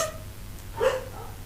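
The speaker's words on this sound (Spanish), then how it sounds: "seguramente va a escuchar el ladrido de los perros" Dogs barking somewhere outside an open office door, a single faint, distant bark or yelp rising briefly over a low background hum.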